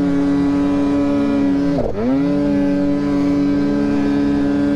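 A snowmobile engine drones loudly and steadily while riding through deep powder near Revelstoke, then briefly bogs with a sharp dip in pitch before recovering to its steady roar.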